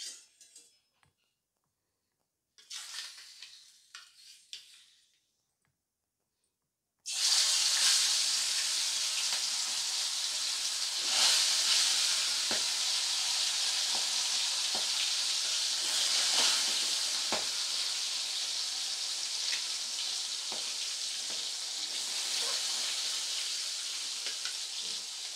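Aar fish pieces drop into hot mustard oil and fry with a loud, steady hiss and crackle that holds for over fifteen seconds after a few quieter handling sounds and a short pause.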